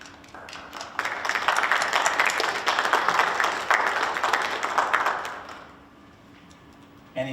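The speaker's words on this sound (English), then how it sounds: "you might give them a round of applause" A town meeting audience gives a round of applause, a dense burst of clapping from a crowd in a hall that holds for several seconds and then fades out.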